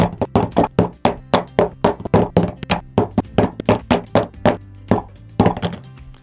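A POCO F3 smartphone in a protective case with bumper corners is slammed down again and again, giving a rapid series of about two dozen loud, sharp knocks with no talking.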